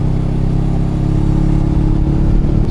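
A 2018 Honda CB500F motorcycle with an SC Project exhaust silencier, idling close by with a deep, steady, throbbing parallel-twin rumble that stays loud and even throughout.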